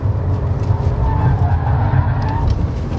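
A 2016 Audi A4 1.4 TFSI corners at its limit, a loud steady engine drone close up with a light tire squeal threading through, and someone talking faintly underneath.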